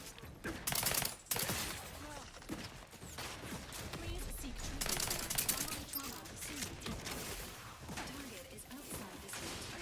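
A video game turret fires at the player in rapid repeated bursts of gunfire with mechanical clatter, loud and close, mixed with other game effects and a voice talking over it.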